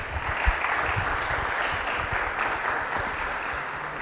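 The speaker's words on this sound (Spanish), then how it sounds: "por favor démosle un fuerte aplauso" An audience at an evening security talk claps for the speaker, dense, even applause from a room of listeners that stays steady and fairly loud for several seconds.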